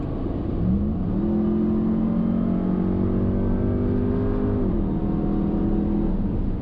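A heavy Ram TRX pickup truck accelerates hard uphill, its engine note climbing steadily in pitch for several seconds before easing off, heard from inside the cab under constant road and wind noise.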